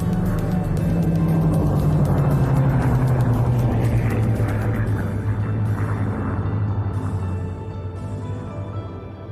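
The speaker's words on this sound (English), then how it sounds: "what we can see now is the Saudi C-130 taxiing down the parallel taxiway to the runway on the far side of the airfield" A Saudi C-130 Hercules turboprop taxiing along the parallel taxiway on the far side of an airfield at an air show, heard as a steady, loud, broadband engine roar that eases slightly toward the end.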